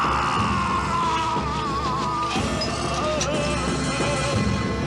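A man screams in a horror film, a long, strained yell that wavers in pitch, loud and raw, set over a noisy, clattering background.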